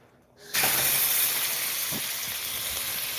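Tri-tip beef hits a hot grill face down and erupts into a loud, steady sizzle that starts abruptly after a quiet moment and holds without letting up.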